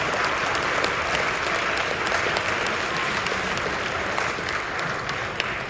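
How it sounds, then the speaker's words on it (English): An audience applauds a district honor jazz ensemble at the end of a performance, a dense, sustained wash of clapping from many hands that continues evenly throughout. "one more round of applause for your District 7 Honor Jazz Ensemble"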